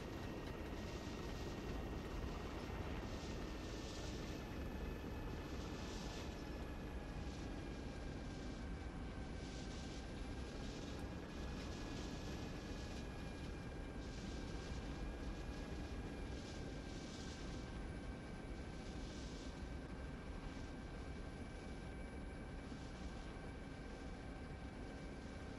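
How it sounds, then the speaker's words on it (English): An approaching Mi-8 helicopter makes a faint, continuous droning rotor and engine noise with a gentle pulsing rhythm, steady and distant throughout. "We have MI-8 inbound."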